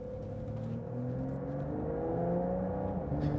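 A 2024 Porsche 911 Dakar accelerates along a winding road, its engine note climbing steadily through the revs in a smooth, rising whine and growl heard from inside the car, with no talking.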